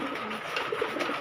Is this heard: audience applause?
no